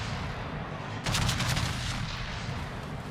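Ship guns firing in World of Warships during a naval battle, a burst of rapid booming shots rising over constant loud rumbling combat noise, then fading back into the din.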